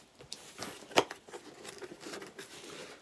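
Scissors cut open a large mail package, making faint snipping, crinkling and tearing noises, with one sharp crisp cut standing out near the start, fairly close and alone without talking.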